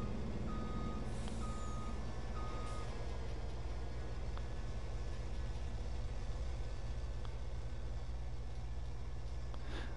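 Truck in the Farming Simulator 22 video game sounding its reversing alarm, three evenly spaced beeps early on, then a steady diesel engine rumble idling under faint clanks.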